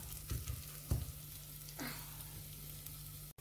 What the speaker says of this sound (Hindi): तो अच्छे को, अच्छे से अदरक को भून लेंगे घी में।